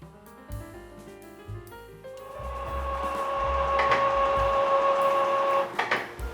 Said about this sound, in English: After printer prints the printhead alignment pattern